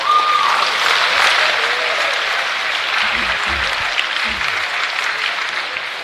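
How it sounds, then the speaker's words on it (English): A crowd at a track and field conference championship gives a sustained round of applause, loud and steady, with a few low thumps and brief voices underneath. "Let's give them a huge round of applause."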